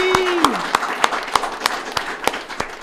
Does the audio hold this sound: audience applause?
yes